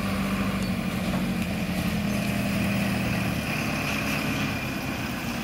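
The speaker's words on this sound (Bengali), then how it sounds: "মোটর সাইকেলটা" A motorcycle engine runs steadily at an elephant safari park, a constant close drone with a low steady hum and no pauses throughout.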